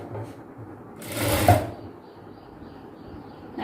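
A sewing machine stitches piping onto a chudidhar neckline in one short close burst of rapid whirring, with quieter room sound before and after.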